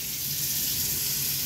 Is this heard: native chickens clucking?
no